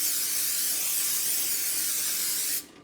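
Cooking spray hisses steadily from an aerosol can into an 8x8 baking dish, one continuous close burst lasting nearly three seconds before cutting off abruptly.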